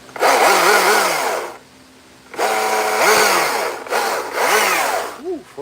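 Chainsaw trimming wood while carving a dragon, loud and close, with the engine revving hard in bursts, dropping to idle briefly, then cutting again with pitch swings.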